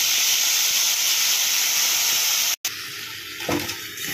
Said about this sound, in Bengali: এবার আমি আদা, রসুন, টমেটো, পেঁয়াজের পেস্টটা দিয়ে দেবো।